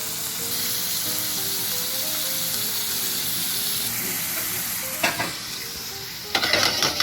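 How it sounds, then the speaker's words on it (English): Steady crackling sizzle of already-cooked shrimp frying in a hot pan, continuous and close, with a couple of brief clatters near the end. "Oh, we got that nice sizzle going on."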